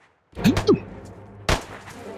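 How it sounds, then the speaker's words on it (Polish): Gunfire in a first-person shooter game, heard as a distant shot and then a sharper, louder crack about a second later, with a voice briefly speaking beforehand. "Słyszę strzały."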